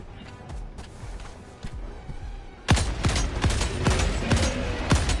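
Gunfire in the Helldivers 2 co-op shooter: scattered distant shots at first, then a loud, close run of sharp repeated blasts in quick succession.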